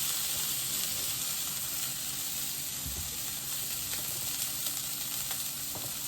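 Sirloin steak sizzling steadily in a hot pan, a loud continuous frying hiss with faint crackles and a brief low knock partway through.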